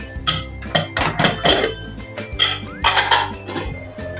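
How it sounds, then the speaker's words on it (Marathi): Metal kitchen clatter as a pressure cooker of cooked carrots for halwa is opened, with repeated clanks, knocks and scraping of the lid and pot, loud and close, with no speech. "आता आपण कुकर उघडून बघूया।"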